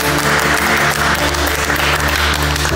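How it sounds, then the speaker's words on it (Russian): A studio audience at a televised psychic competition show applauds steadily, a dense, even wash of clapping with no voices over it. "Аплодисменты."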